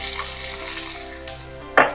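Tadka with Kashmiri red chili powder sizzling in a pan, an intense close hiss that ends in a sharp loud burst of crackle as it hits.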